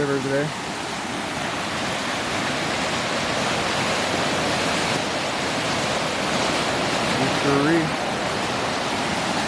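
Loud, steady roar of rushing water, the flash-flooded Big Thompson River in the Colorado mountains churning and filling the scene with broadband noise throughout.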